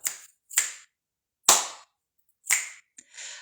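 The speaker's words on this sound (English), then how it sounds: "my clap snaps is still pretty rusty" Clap snaps done by hand, a sharp clap followed by finger snaps, five crisp isolated hits spaced about a second apart in a quiet room, with a softer final snap trailing off.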